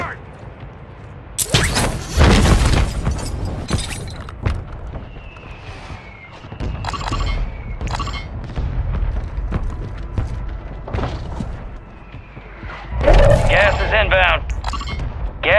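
Artillery from a called-in fire mission pounds down in Call of Duty Warzone 3: a heavy blast early, scattered gunfire and smaller bangs through the middle, then another loud explosive barrage near the end, with radio voices over the action.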